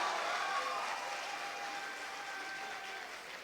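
Applause from a poetry-event audience fills the space with dense, steady clapping that slowly fades, heard alone without talk.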